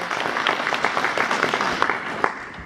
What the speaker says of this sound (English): Yes, round of applause, please, for the musicians.